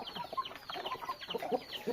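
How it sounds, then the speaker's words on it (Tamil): Chickens standing about in hot sun make soft, scattered clucks and murmurs, faint and continuous at a moderate distance, with no talk. "கோழிகள் எல்லாம் ஒரு பக்கம் வெயிலுக்கு அப்படியே சும்மா தத்தளிக்குது"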